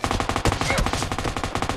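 Fast automatic gunfire from the PUBG Mobile battle royale game on the Miramar desert map, a loud, dense rattle of shots filling the whole short stretch.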